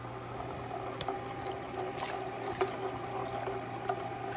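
Cream poured into a warm herb soup while it is being stirred, giving a soft continuous trickling, liquid sound at low level with faint clinks from the stirring and no talking.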